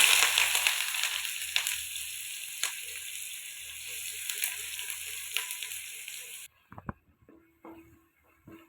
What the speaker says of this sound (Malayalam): അപ്പോൾ അതിനകത്തേക്ക് നമുക്ക് ഈ സവോള ഇട്ട് കൊടുക്കാം.